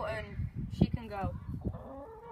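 Hens clucking and calling inside a school chicken coop, their busy, overlapping cackles sitting close and mixed in with someone talking throughout.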